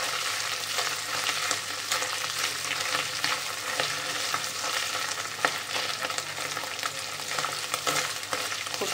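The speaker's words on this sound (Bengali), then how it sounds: "ফ্রাই করে নিলাম। হয়ে গেছে ফ্রাই, দেখেছো?" Deboned fish frying in a pan, a continuous bright sizzle with occasional stirring scrapes, close up and without voices.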